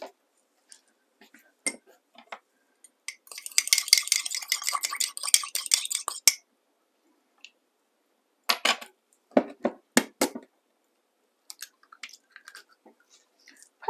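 Four eggs whisked in a cup with a fork for chocolate spiced cupcakes, giving a rapid rattling burst of clinks in the middle and shorter bursts later, close up and separated by silent gaps.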